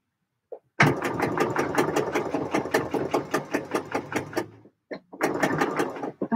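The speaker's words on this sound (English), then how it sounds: "So I only want to sew." Sewing machine stitching a coat, rapid rhythmic mechanical clatter running for a few seconds, a short pause, then another burst of stitching, close and clear with no talk.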